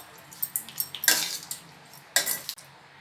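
A metal spoon scrapes and clinks against a pan as cooked rice is tossed for coconut rice, giving a quick run of close knocks and then two louder scraping bursts, with no voices.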